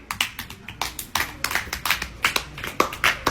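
Irregular hand claps from a small group, sharp and fairly close, coming in uneven bursts with short gaps between them and no talking over them.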